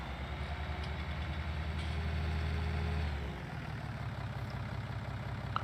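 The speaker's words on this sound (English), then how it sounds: "Gonna park our tractor in the shed" A tractor engine idles in a farming video game at the French farm, with a steady low rumble that holds, dips slightly after a few seconds, then continues evenly with no talking.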